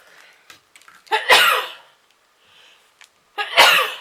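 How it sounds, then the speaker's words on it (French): Two sneezes, close and loud, each with a sharp sharp intake and burst, separated by a brief quiet pause and faint rustling. "Je vais éternuer."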